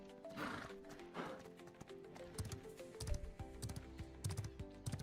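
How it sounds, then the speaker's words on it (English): A horse in the video game Ashes of Creation whinnies twice, then its hooves clip-clop in a quick rhythm, with faint keyboard typing underneath. "let's call our horse back up."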